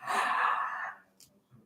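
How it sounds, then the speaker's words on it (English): A single breathy yawn during a calm breathwork and meditation exercise, a long soft airy exhale that fades out, followed by faint quiet sounds. "we'll start with some yawning"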